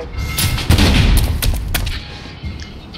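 Gunfire in the futuristic shooter Blacklight Retribution striking an armored hard suit, with a loud cluster of sharp shots and impacts followed by a few scattered cracks that fade toward the end.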